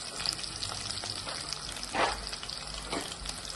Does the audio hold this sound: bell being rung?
no